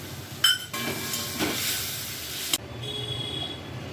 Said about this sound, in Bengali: তার মধ্যে অল্প জল দিয়ে সেই জলটাও দিয়ে দিচ্ছি